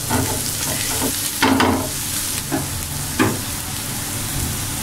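A spoon scrapes through eggs frying with onion in a pan for egg bhurji, with a few distinct scraping strokes over a constant close sizzle.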